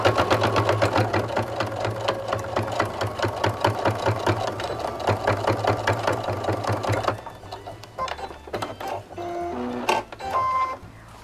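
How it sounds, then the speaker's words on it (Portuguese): Sewing machine stitching fabric with a fast, even mechanical clatter for about seven seconds, then slower intermittent stitches and handling clicks close by. "Vamos à máquina, passar a costura, pé de máquina."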